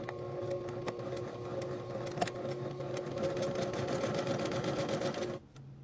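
A sewing machine stitches along a marked line on fabric, a steady close mechanical whir with rapid needle ticks that runs for about five seconds and then stops abruptly.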